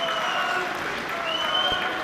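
At a FIGHT UK MMA featherweight event, the crowd applauds both fighters after the bout, a dense, steady wash of clapping and cheering that fills the hall while a commentator talks over it.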